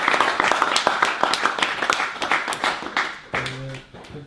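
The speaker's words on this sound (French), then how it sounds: "Bravo, on applaudit." A small conference audience giving brief scattered applause, a few dozen uneven claps that thin out over a few seconds, with a short voiced sound near the end.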